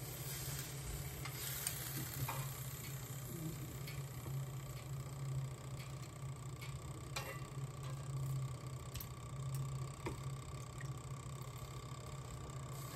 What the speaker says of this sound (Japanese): 串に刺して焼きようか